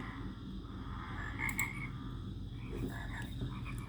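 Frogs croak repeatedly in a Minecraft game world modded with the Spartan mod, irregular chirping calls over a low ambient background, fairly close and with no talking.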